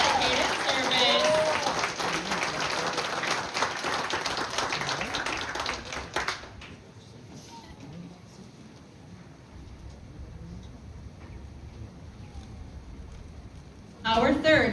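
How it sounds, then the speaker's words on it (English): Audience applause for a retiring US Army soldier and family at a military retirement ceremony, a dense burst of clapping for about six seconds that cuts off abruptly, followed by quiet room tone and a brief renewed clap at the end. "Please give him and his family a round of applause."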